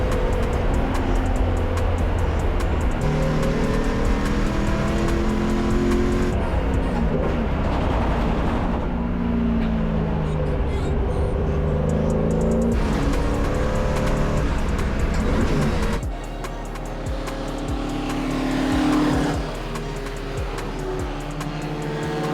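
A roughly 60-year-old Ford Mustang race car on a wet circuit, its loud engine revving up and down through gear changes with rising and falling pitch, close and continuous, easing off near the end.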